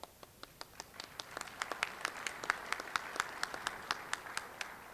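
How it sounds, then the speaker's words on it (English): An audience at a community breakfast event gives scattered, light applause, individual claps audible in a quiet room, faint and brief. "Yeah, go ahead and clap."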